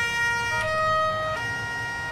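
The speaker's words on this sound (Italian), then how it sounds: "Dai, iniziamo ad attivare le sirene, va." A Carabinieri escort vehicle's emergency siren in Farming Simulator 19 wails steadily, shifting pitch partway through, close and prominent over a low engine rumble, with no one speaking.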